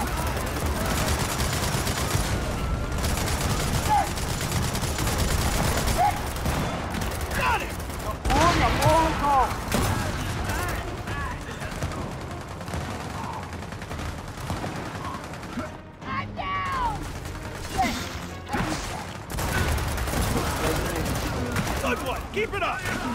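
Gunfire in the video game Gears of War 4 comes in repeated bursts and volleys, with metallic mechanical clanks between them, while voices shout and talk over the fight.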